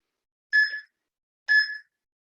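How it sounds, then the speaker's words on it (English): Two short high-pitched chirps from a smoke alarm with a low battery, spaced about a second apart, clear and isolated in an otherwise quiet room. "my smoke alarm that has run out of batteries and keeps beeping at me"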